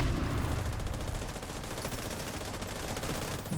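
Sustained battle noise in a video game with a grenade launcher in use, a dense continuous roar of explosions and rapid fire at steady loudness throughout.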